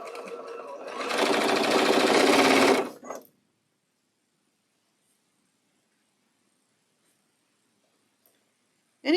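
A sewing machine chain-pieces a quilt block, a fast, loud, close burst of stitching lasting about two seconds, then a few quick clicks and near silence.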